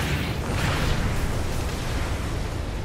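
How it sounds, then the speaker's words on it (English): Katyusha rocket explosions in the stealth game Splinter Cell: Blacklist form a dense, continuous roar of blasts and rumbling impacts, steady and loud throughout with no pause. "Jesus, that's not mortar fire. Sounded like Katushas."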